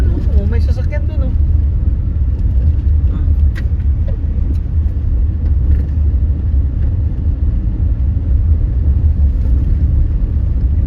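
Vehicles driving through sand dunes, a loud continuous low engine and wind rumble close by, with brief voices talking over it near the start.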